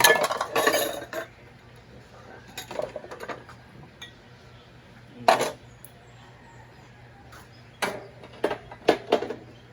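Pots, pans and dishes being washed, with sharp clinks and clatters of metal and glass coming in scattered bursts between quieter stretches, close by and without talk.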